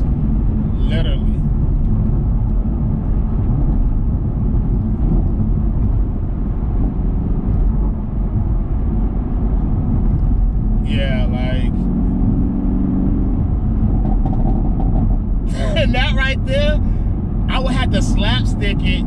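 A 2022 Chevrolet Camaro SS 1LE with a manual gearbox drones steadily and loudly from inside the cabin while driving, with bursts of higher-pitched sound breaking in now and then.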